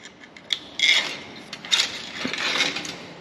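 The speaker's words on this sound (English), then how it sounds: "I run that through the pulley" A control cable with a turnbuckle being run through a pulley in the aileron system of a 1916 Sopwith Camel replica; faint close clicks and soft scraping rattles in short bursts, no talking.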